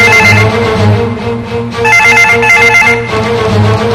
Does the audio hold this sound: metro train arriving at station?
no